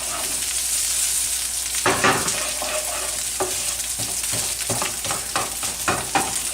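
Garlic and ginger sizzle steadily in hot oil in a pan, a loud close hiss broken by rhythmic scraping stirs.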